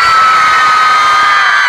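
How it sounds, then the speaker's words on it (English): A large concert crowd at a show in Jakarta cheers, screams and whoops loudly and continuously, a dense, sustained roar of many voices filling the space. "You guys give me the loudest crowd yet?"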